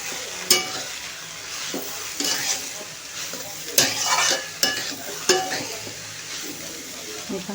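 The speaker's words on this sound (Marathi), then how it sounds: "आता हे अंड मिक्स करून घेऊया नूडल्समध्ये भाज्यांसोबत." Chicken noodles with fried egg and vegetables being stirred and tossed in a hot pan, a steady sizzle broken by sharp scraping strikes of a utensil against the metal every second or so, with no voices.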